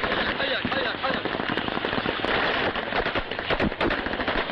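Rapid bursts of gunfire from security forces in a Syrian town crackle in quick, dense volleys, loud and somewhat distant, with voices faintly mixed in beneath the shots.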